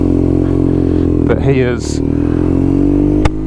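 A custom BMW R nineT racer motorcycle engine idles steadily and close by after an O2 sensor fault was cleared, with someone talking over the engine and a brief clatter.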